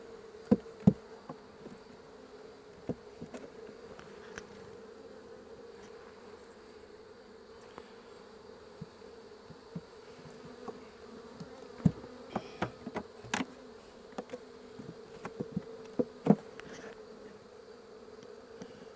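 Honey bees droning in an opened hive during an inspection, a faint steady buzz throughout with scattered sharp clicks and knocks from the hive frames, no talking.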